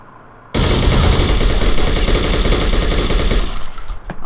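Bullpup AK rifle fired in the True Crime New York City video game, a sudden loud burst of rapid automatic gunfire that rattles on continuously for about three seconds before tailing off.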